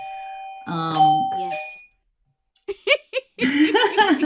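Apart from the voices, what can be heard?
doorbell ringing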